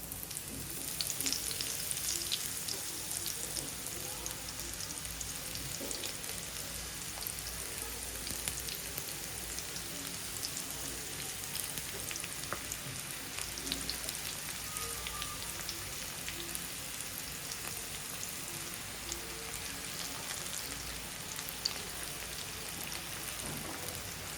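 Kumbhniya bhajiya frying in hot oil, a dense, steady crackling sizzle like heavy rain, continuous and close with no voices throughout.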